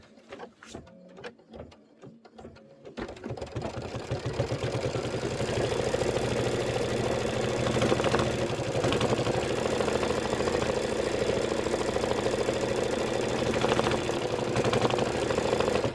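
An embroidery sewing machine runs a steady, fast stitching tack-down on a rain boot design, starting after a few seconds of faint clicks and holding an even mechanical whir to the end.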